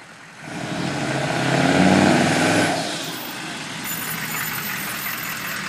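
Dually pickup truck with new exhaust idling nearby, a steady low engine rumble that swells briefly to a louder, throatier note before settling back into an even idle.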